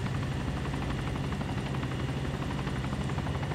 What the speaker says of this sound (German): Aber da kommt noch ein Helikopter